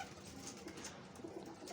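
Flying pigeons cooing, soft low coos surfacing a few times over a steady hiss of background noise, faint and distant.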